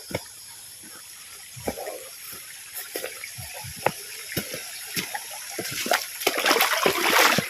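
Water splashes and splatters on a farm during a communal field job, in scattered irregular bursts that grow denser and louder toward the end, with no talking.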